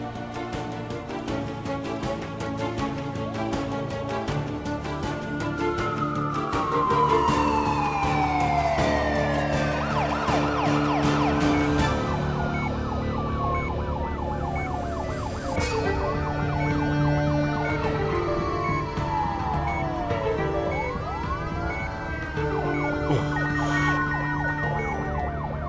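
An ambulance siren wails without pause, its pitch sweeping up and down in repeated loud, close cycles for the whole stretch, with no talking.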